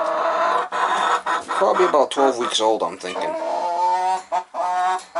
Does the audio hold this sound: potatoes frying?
no